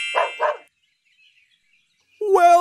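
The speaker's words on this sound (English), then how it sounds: "D, D, dog." A dog barks twice in quick succession, close and clear, in a children's animated learning show, followed after a short pause by a brief burst of bright musical tones.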